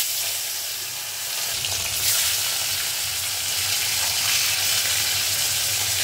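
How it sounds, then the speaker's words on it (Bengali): Pomfret fish frying in hot mustard oil in a wok, a steady dense sizzle with a low bubbling undertone that swells as the fish goes in, loud and close with no talking. "তেল গরম হয়ে গেছে, এবার মাছ ছেড়ে দেবো।"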